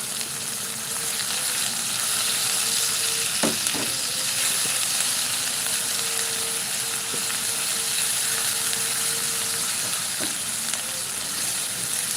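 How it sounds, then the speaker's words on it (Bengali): Chopped tomatoes sizzling in a hot frying pan, a continuous hissing fry with a couple of sharp knocks from a utensil and a faint background hum. "তারপর আমি টমেটো কুচিগুলো দিয়ে দিচ্ছি"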